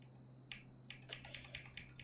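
Keys on a Logitech computer keyboard are struck in a quick irregular run of distinct clacks, close and clear over a low steady hum.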